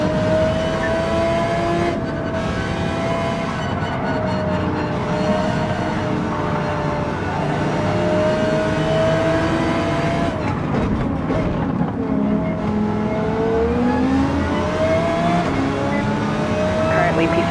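An Audi R8 Evo GT3 race car engine in a racing game drones loudly and steadily, its pitch climbing and dropping through gear changes across the lap, with a driver's voice and radio chatter over it.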